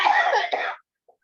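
A woman gives a short, close cough that breaks into two quick bursts, followed by silence and a faint tiny sound.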